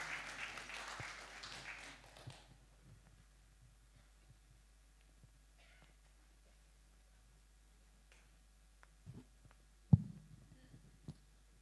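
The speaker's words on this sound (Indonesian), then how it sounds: "Tepuk tangan sekali lagi bagi beliau." Audience applause at an Easter celebration, honoring a council member, dense clapping over the first two seconds that quickly fades to a quiet room with a few faint knocks and thumps.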